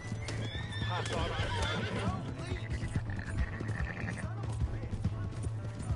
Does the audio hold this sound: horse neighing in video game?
yes